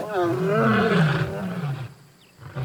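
Several grown male lions on the African savanna approach, and a deep, drawn-out lion roar sounds close and loud before fading into quiet, with a voice overlapping it.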